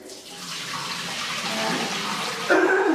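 Water pours and splashes steadily as it drains from a bowl of soaking romaine lettuce in a kitchen, with a sudden louder gush toward the end and no talking.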